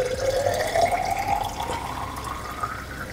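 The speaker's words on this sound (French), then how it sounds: "on va maintenant de nouveau verser le reste de la solution à travers le col fileté" Regeneration solution pours through the threaded neck of an Aragon SE/SSE cartridge, a continuous, close liquid stream whose gurgling pitch slowly rises as it fills, with no talking.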